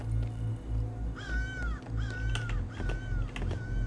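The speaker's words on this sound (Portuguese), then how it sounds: "O corvo." Crow caws in the video game Secret Neighbor, a series of four or five rasping calls in an uneven rhythm over a steady low in-game drone.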